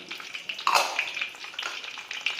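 Ginger slices, garlic cloves and scallion sizzle and crackle as they are stir-fried in oil at about 90 degrees, with a busy, continuous frying hiss and a louder spitting burst as more scallion goes in.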